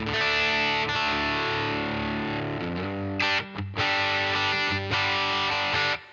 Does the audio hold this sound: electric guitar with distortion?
yes